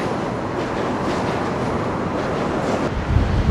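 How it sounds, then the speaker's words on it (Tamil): A metro train passing in Australia, a continuous rumbling roll with faint rhythmic wheel clatter, steady and fairly close, with no voices. "இது பாருங்கள், மெட்ரோ போகுது"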